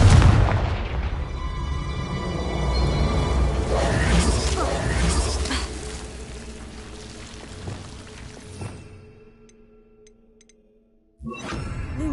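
A Confringo blast spell explodes in Hogwarts Legacy with a loud booming burst that rumbles and crackles as it decays into a long fading tail, then cuts to near silence before another sound starts abruptly.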